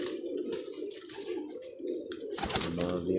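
Highflyer pigeons cooing close by in soft repeated throaty murmurs, with a brief brighter flutter or call near the end and light background noise.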